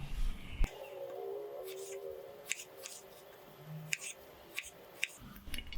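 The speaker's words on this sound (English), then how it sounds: "Now cut all the lemons this way." Knife slicing through lemons on a board, quiet close crisp cuts and soft squishy taps scattered irregularly across several seconds.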